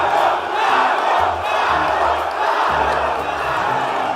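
Large crowd at a mayors' march cheering and giving a candidate an ovation, a dense, loud roar of voices and shouts sustained throughout with slight swells.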